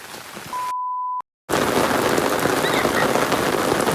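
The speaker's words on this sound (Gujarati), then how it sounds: "જોરદાર વરસાદ પડી રહ્યો છે ભાઈ અમારા ગામડામાં અમારા ખેતરોમાં" A short beep cuts in, then after a brief silence a dense, loud hiss of heavy monsoon rain pours down steadily over village farm fields.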